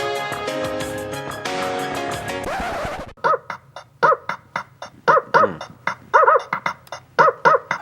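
A dog barks in a quick series of loud, close, sharp barks with short gaps between them, heard alone after music fades out.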